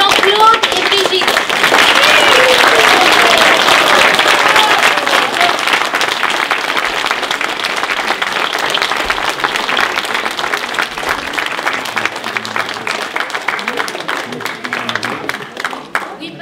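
An audience applauds warmly for Jean-Claude and Brigitte, a dense, loud wash of clapping that holds steady for the whole stretch, with some voices mixed in beneath it.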